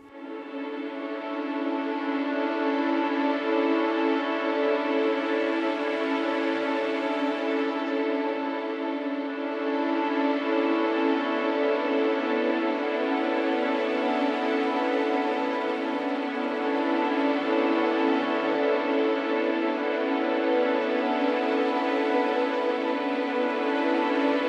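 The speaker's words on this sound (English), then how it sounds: "So if we choose tremolo crescendo and half of the section, and combine it with sul tasto, it sounds like this." String section bowing tremolo sul tasto with half the section swelling in a crescendo: a dense, airy, sustained shimmer that holds steadily for over twenty seconds without voices.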